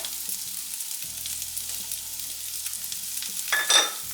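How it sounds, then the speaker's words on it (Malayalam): Cut potatoes with salt frying in a pan while being stirred: steady close sizzling with scraping stir strokes, swelling louder near the end, and no voices. "ഇനി ഇതിലേക്ക് നമ്മൾ കട്ട് ചെയ്ത് വെച്ചിരിക്കുന്ന പൊട്ടറ്റോ ഇട്ട് കൊടുക്കാം."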